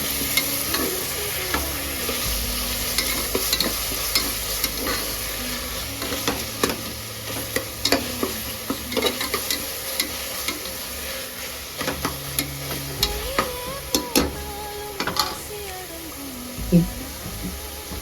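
Onions and other ingredients for a traditional Tamil dry fish curry sautéing in a pan, a constant sizzle with frequent clinking, scraping stirs of a spoon, close and fairly loud, no talk.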